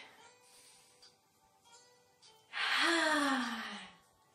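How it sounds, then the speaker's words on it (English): Someone takes a deep breath during a Pilates and barre exercise, a quiet pause followed by a long, audible breathy exhale with a slight voiced sigh. "Take a deep breath."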